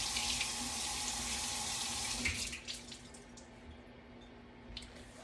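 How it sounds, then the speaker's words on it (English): Water from a tap runs steadily over a cross stitch bracelet being rinsed in a sink, a close hissing splash that thins out and drips toward the end, with no talking. "Let me rinse it out, and I'm gonna see how that looks."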